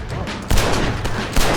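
Dense bursts of gunfire from Red Dead Redemption: Undead Nightmare as zombies are shot, several loud overlapping shots with a sharp fresh volley near the start and another near the end, no talking.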